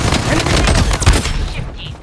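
Rapid bursts of video game gunfire, loud and dense, crackle through a chaotic firefight, with a voice briefly audible beneath the shots.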